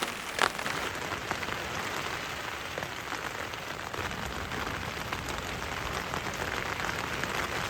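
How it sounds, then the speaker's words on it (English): Steady rain patters on a small one-person tent, a dense even hiss of drops close overhead with one brief louder knock near the start; no voices. "Just lying here listening to the rain on the tent."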